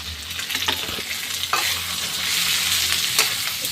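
A paneer and vegetable dish sizzles steadily in a pan while a spoon scrapes and stirs it in scattered strokes, close and loud, with no talk.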